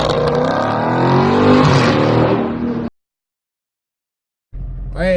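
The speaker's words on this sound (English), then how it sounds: "We got the full Boiler S-Type catback exhaust system installed, and we're going to fire it up for the first time." A 2019 Dodge Charger 392 Scat Pack fitted with a Borla S-Type catback exhaust, a loud, close engine roar that cuts abruptly to silence, then the exhaust rumbles back in briefly.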